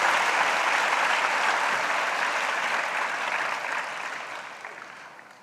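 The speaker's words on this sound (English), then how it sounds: "you have to congratulate and a big applause for them" Steady, dense applause from a symposium audience at a valedictory session, clapping for the organising team, loud at first and slowly fading.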